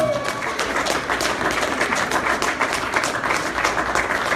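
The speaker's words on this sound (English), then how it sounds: "Give Brother Xavier another round of applause." Audience applause at a Nation of Islam gathering with Minister Tony Muhammad, steady dense clapping sustained throughout at moderate loudness, with no clear talk over it.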